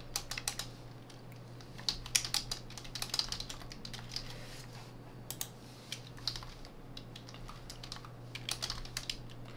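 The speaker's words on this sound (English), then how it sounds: "We type crypto key, generate RSA, and hit enter." Commands being typed on a computer keyboard while a managed network switch is set up, with irregular bursts of close, crisp key clicks over a steady low electrical hum.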